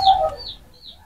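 A mother hen brooding with a single chick after a storm gives a short, near cluck with soft higher chick-like peeps trailing after it, with no talk.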